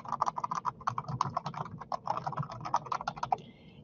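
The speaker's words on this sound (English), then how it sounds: "So then here you can type a few instructions." Steady typing on a computer keyboard, a rapid run of close, crisp key clicks with no voices, ending in a brief pause.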